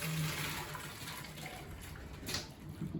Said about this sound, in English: whack through enough cold water to stop it cooking